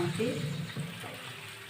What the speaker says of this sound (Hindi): इसको मैं गर्म पानी से धो रही हूँ यहाँ